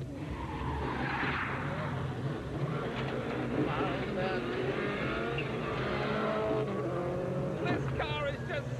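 A 1998 Cadillac Seville STS spins out during a hard rally-style drive, engine roaring and tires squealing across the surface while occupants talk and exclaim over the noise.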